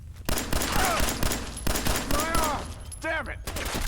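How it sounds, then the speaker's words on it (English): Rapid turret gunfire crackles through modded Fallout 4 combat, dense bursts of shots layered under sweeping synth-like whines and a person speaking over the action. "I thought that was a turret."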